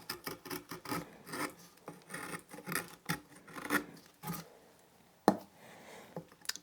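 A skew chisel carves cottonwood bark for a deep-set greenman face, giving a run of close, dry rasping scrapes in short strokes with brief pauses, and one sharper cut near the end.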